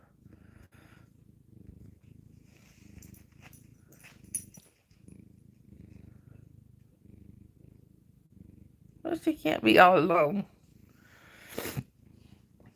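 Several cats lie on a person and purr close up, a steady low rumbling purr running through the whole stretch, with a brief burst of talking near the end.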